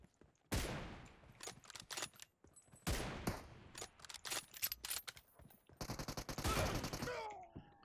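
Repeated bursts of automatic and single-shot gunfire in PUBG Mobile crack loudly and close, with short pauses between volleys and rapid machine-gun rattles toward the end.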